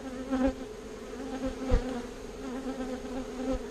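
Bees buzz steadily around an opened hive during a queen cell check, a continuous close insect drone with a few louder swells as individuals pass near.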